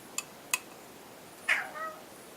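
A house cat gives one short meow and a softer trailing call near the microphone, after two sharp clicks, with a faint background hum and no talk.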